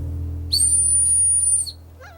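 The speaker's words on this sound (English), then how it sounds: "Where's that silver whistle? The one only dogs can hear." A silver dog whistle gives one steady, shrill high-pitched blast lasting just over a second, close and loud over a low hum, followed by a brief faint animal-like squeak.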